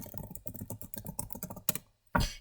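Rapid clicking of a computer keyboard as someone types a search query, a steady run of close, crisp keystrokes followed by a short pause and one louder final key tap.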